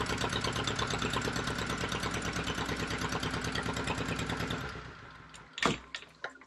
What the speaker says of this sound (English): so now I've got a decent idle speed